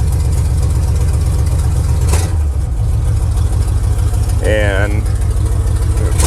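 Classic Chevy engine with an odd misfire idling steadily as the transmission is shifted into drive, a brief clunk from the torque converter partway through, with someone talking over the running engine.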